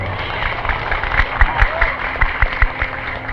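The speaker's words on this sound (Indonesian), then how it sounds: "Asal yang gini senangnya tepuk tangan." Scattered clapping from an audience at a Nahdlatul Ulama regional conference held in a pesantren, heard during a sermon as a handful of uneven, moderately loud claps over a murmuring room.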